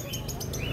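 Parakeets chirp in quick high bursts at a crowded Caruaru bird market, with a dense murmur of voices and a low crowd hum underneath.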